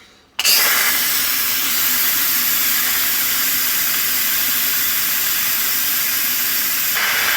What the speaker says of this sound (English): I've got a deflector so that it doesn't blow the steam straight up in the air.